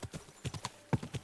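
Horse hooves clip-clop in an uneven, rapid patter as the horse is ridden in Kingdom Come: Deliverance II, fairly close and clear, with a couple of heavier strikes and no voices over them.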